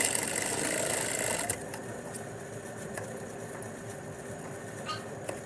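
A sewing machine stitches the armhole of a halter neck peplum top, with a fast whirring run for about a second and a half, then a quieter mechanical hum with a few soft clicks.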